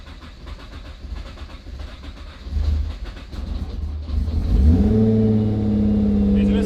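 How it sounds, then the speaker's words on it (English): A Nissan R35 GT-R engine is cold-started after maintenance: a cranking rumble catches and rises into a loud, steady elevated idle with a droning tone, close by, with some background noise before the start. "let's start this thing up and hope nothing leaks"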